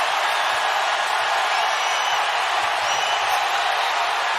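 A basketball arena crowd roaring and cheering wildly after a big Kevin Durant play, a dense, steady wall of distant voices and whoops that holds throughout without letting up.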